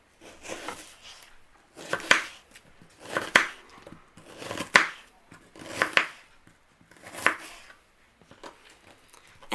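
Kitchen knife slicing vegetables on a wooden cutting board, meant as side pieces for steak; five or six crisp, evenly spaced chops about a second apart, close and clear with no talking.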